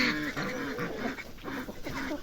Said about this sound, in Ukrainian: трохи випускати своїх качок